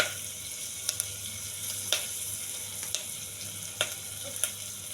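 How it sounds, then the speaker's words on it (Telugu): Curry leaves, peppercorns and spices fry in hot oil in a pan, giving a steady close sizzle with occasional sharp pops and crackles. "వెల్లుల్లిపాయలు, కొంచెం దోరగా వేయించాలండి"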